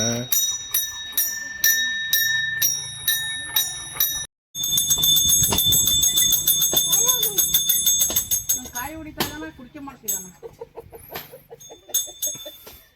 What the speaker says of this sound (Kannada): ಸರಿಯಾಗಿ ಹೊಡಿಯೋ ಗಂಟೆಯ